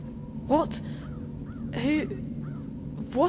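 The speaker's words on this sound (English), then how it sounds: "I'm a bird. Crow's the name." A crow caws repeatedly in the Dreamfall adventure game, three loud harsh calls spaced about a second apart over a low ambient hum, with a voice speaking between them.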